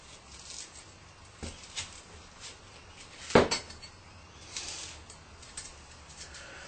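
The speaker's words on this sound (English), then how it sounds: "Scoop out the goop, otherwise known as the seeds." A cleaver scraping seeds and pulp from a halved squash: scattered clinks and scrapes against a hard surface, one sharp knock in the middle, close and fairly quiet.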